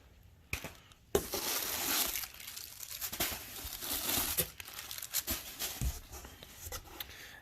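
Stickers peeled off the coil springs of a Polaris RZR XP 1000 during a spring upgrade, giving a close, steady crinkling and tearing rustle with a few sharp crackles, no talking.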